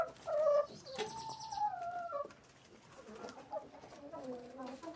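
Poultry cluck and call softly in the yard, with a few warbling, rising and falling notes at moderate distance, mixed with quieter murmurs and occasional background voices.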